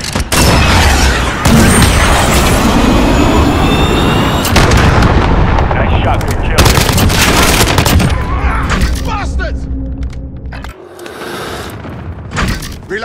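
Heavy gunfire and booming blasts in the shooter game Call of Duty Modern Warfare, including the FN SCAR 17 and Renetti, roll on almost without pause, loud and dense, with radio-style voices now and then over the top.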